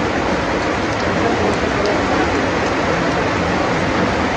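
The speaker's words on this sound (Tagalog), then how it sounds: "sobrang lakas ng ulan" Heavy rain, with wind, pours down in a steady, dense roar of hiss that stays constant and loud throughout, with no voices.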